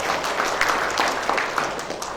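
Congregation applauding at an online Sunday church worship service, a steady, dense wash of many hands clapping that holds evenly throughout with no voices on top.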